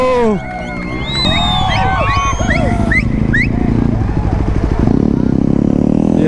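A stunt motorcycle revving as it rides around a track, its engine a loud buzzing drone throughout, with crowd whoops and shouts over the top at the start.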